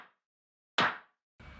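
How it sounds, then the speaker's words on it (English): A single lo-fi house clap sample hits once, sharp and bright with a short decay, isolated in silence between brief fragments of other sound. "I just have this clap. I'll just play it really quick."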